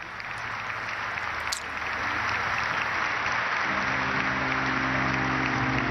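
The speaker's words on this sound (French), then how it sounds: "et reçoit les applaudissements de l'Assemblée" Congregation applauding a newly ordained bishop at an episcopal ordination in church: steady, dense clapping fills the space throughout, loud and sustained with a faint bell-like ring early on, no voices over it.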